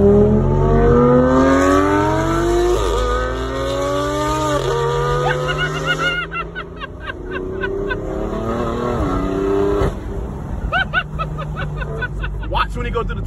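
A BMW M4 with a Dinan exhaust accelerating hard, loud engine notes climbing through several gear pulls with rasping exhaust crackle and pops, heard from inside the car with voices talking over it.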